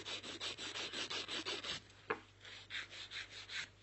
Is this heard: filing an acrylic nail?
yes